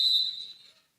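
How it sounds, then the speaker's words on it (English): Referee's whistle at a women's college basketball game, a single sharp shrill blast that holds steady and then fades out over about a second. "but we do have a whistle"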